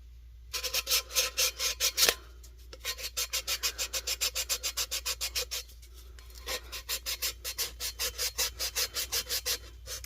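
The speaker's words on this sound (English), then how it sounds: "I like to take just a little piece of sandpaper, a little sanding block, whatever, and do a little cleanup." Rapid, rhythmic rasping strokes of a sandpaper block against an epoxy tumbler rim, in steady bursts with brief pauses between them, close and fairly loud.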